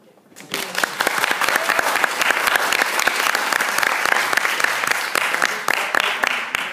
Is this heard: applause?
yes